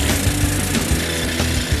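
A power drill bores a hole high up on a tall engineered structure, giving a steady, loud, grinding and rasping whir that runs unbroken throughout with faint rhythmic thumps underneath.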